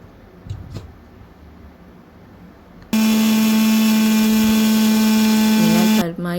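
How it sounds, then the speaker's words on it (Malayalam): Electric mixer blending homemade mayonnaise; after quiet background noise it switches on with a loud, steady high-pitched whir for about three seconds, then shifts and cuts off. "മയോനൈസ് സെറ്റാവണവരെ ഒന്ന് അടിച്ചു കൊടുക്കണം."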